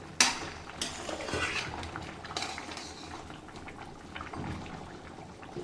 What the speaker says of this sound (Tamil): இப்போ சிக்கன் எடுத்து நல்லா ஒரு தடவை மிக்ஸ் பண்ணி விட்டுருவோம்